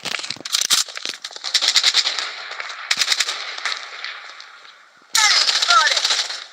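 Machine-gun fire from a defensive turret in a multiplayer shooting game, loud close bursts of rapid gunshots with short pauses and crackling, ending in a heavy final volley.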